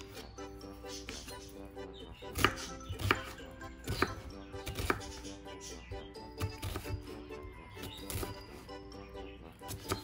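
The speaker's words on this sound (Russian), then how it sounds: "сначала нам нужно порезать лук мелко и чеснок" A knife chops onion and garlic finely on a board for Turkish ezogelin soup, with an irregular run of sharp knocks over background music.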